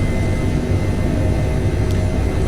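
Airbus H145 helicopter in Microsoft Flight Simulator, its engine and rotor giving a steady, loud low-frequency drone that holds constant throughout with no speech.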